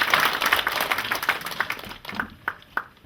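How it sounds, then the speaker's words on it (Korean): Audience applause at a Korean literary association event during an arts festival in Namwon, welcoming the association chairman; a dense burst of clapping that thins out into a few scattered, separate claps. "우리 윤영근 회장님 박수로 한번 이렇게 맞아주실까요?"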